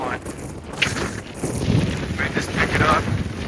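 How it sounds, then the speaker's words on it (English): Strong wind on a Colorado 13er mountain hike near Trinchera Peak buffets the microphone in rough, uneven gusts, with a voice speaking over the blustery roar. "really windy now"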